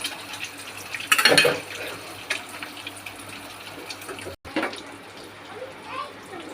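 Eggs for an Andhra egg fry drop into hot, bubbling oil and sizzle with a hissing crackle. A voice talks over the frying.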